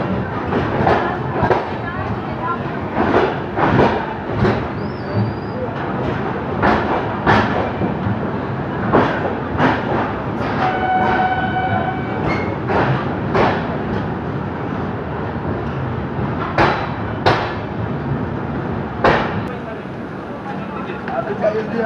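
Kolkata–Jammu Tawi Express pulling in at a busy Indian railway platform, a continuous rumble of the rolling train with repeated clanks and knocks, while people talk nearby and a brief tonal chime or signal sounds midway.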